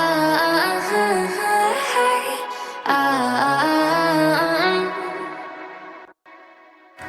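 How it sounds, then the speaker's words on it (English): A pop track carries bright, layered synth leads built in Native Instruments Massive. Rich stacked harmonics glide and bend over a full arrangement, with a brief drop in level before the music resumes. "So now with the synths, it sounds like this."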